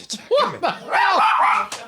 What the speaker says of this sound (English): This is distracting my dog.